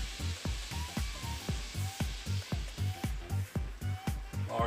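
Seafood and asparagus frying in a pan over medium heat for an omelette, a steady sizzle with a regular repeating thumping rhythm underneath, moderately close and fairly quiet, no talking.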